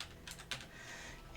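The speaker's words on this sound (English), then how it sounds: "I hear him typing." Computer keyboard typing heard faintly in a quiet room, a few soft key clicks in a short burst.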